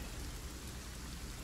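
Steady, dense rainfall in the video game Divinity: Original Sin, an even wash of rain hiss filling the whole moment with no talk.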